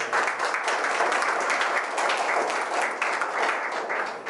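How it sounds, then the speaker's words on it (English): Conference audience gives a sustained round of applause for the organising teams, thick continuous clapping filling the hall at steady loudness. "Can we give them a big round of applause?"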